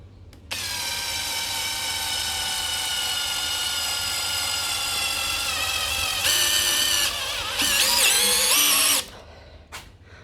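A cordless brushless drill, a budget imitation of a DeWalt, drives a screw with a long, loud, steady high whine that rises in pitch near the end before stopping abruptly.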